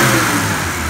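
A BMW 2002 engine runs on a test stand after a carburetor adjustment, a steady loud mid-pitched idle with a slight rev, close and continuous for the whole second with no voices.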